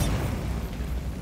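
Bombarda spell blast in Hogwarts Legacy, a loud, dense, rumbling boom that fills the whole short moment with low-heavy noise.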